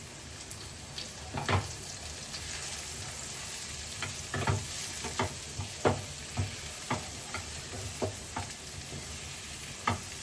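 Onion frying with ajwain in a pan while cooking crispy bhindi, a steady soft sizzle broken by repeated short stirring scrapes and taps at an uneven pace, close and quiet with no talking.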